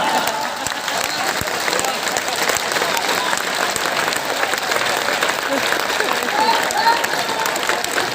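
Audience applause at a Hindi poetry recital (kavi sammelan), a steady dense clapping from a crowd that holds evenly throughout, with faint cheering mixed in.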